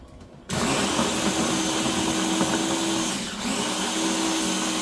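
A blender starts abruptly and whirs steadily and loudly up close as it purees grated garlic with olive oil into a thick paste, with a brief dip in the motor sound partway through.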